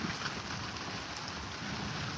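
Monsoon rain pours steadily during a storm, with dark clouds and lightning overhead. It makes a dense, even hiss with no breaks, and no one speaks over it.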